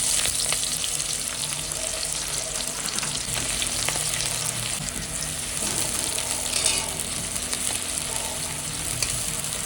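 Onions frying in a pan give a continuous soft sizzle with occasional stirring scrapes, steady and close, with no voices.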